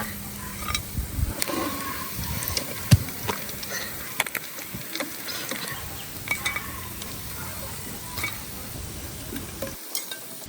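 Freshly caught koi fish frying in a pan, a steady soft sizzle with scattered clinks and scraping of a utensil stirring, close and moderately quiet, ending in a brief silence.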